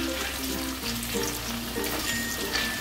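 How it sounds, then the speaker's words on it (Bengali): Matar dal fritters sizzle steadily in hot white oil on a medium gas flame. The frying is a close, dense crackle, broken by occasional louder spits, with no voices. "এবার দেখো আমি প্রথমে বড়াগুলো ভাজবো, যার জন্য আমি সাদা তেল ব্যবহার করছি।"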